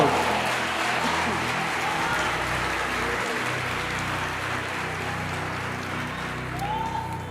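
A church congregation applauds softly and steadily during a worship service, a faint wash of clapping with a low, sustained musical hum underneath and a few murmured voices.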